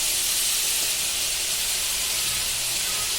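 Ginger garlic paste sautéing in hot oil gives a steady, loud broadband hiss and sizzle that runs unbroken throughout, with no voices.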